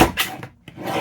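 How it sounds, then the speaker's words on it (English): Paper trimmer slicing through a strip of packaging paper for junk journal crafting; a brief close rasping cut with a scraping slide, heard alone. "just taking it through the trimmer,"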